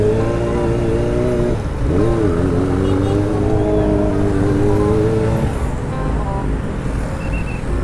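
Dense stop-and-go traffic in an Indonesian street jam, heard from a motorcycle: a steady low engine drone with idling and revving vehicles close by, continuous and fairly loud throughout.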